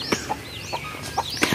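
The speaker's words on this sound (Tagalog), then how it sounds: "Yan ang ating mga alagang manok." Pet chickens clucking close by on a small farm, several short clucks and squawks repeating irregularly with no talking.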